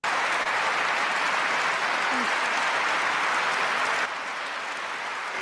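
Loud, continuous applause from a large crowd in a played speech recording, dense and even, dropping slightly in level near the end; a voice is faintly present beneath it.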